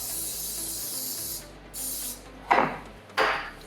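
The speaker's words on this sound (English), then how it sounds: "I'm gonna use a little bit of pan spray in the pan" Two short hissing bursts of cooking spray into a 9x13 casserole pan, close by, against a steady background hum with a brief higher whine earlier.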